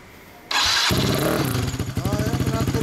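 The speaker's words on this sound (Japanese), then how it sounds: "エンジン音聞かせてもらえますか" A custom 2016 Yamaha BW'S scooter with a DOHC head and Akrapovic exhaust starts abruptly and settles into a steady, throbbing idle close by.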